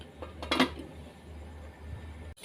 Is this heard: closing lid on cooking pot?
yes